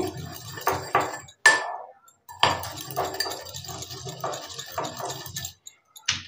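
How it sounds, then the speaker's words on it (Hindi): Coriander seeds are coarsely pounded, giving repeated close, dull knocks in uneven bursts with brief pauses between groups and no talking. "इस तरह से दरदरी कूट लेंगे इसको बहुत ज़्यादा चिकना नहीं करना है"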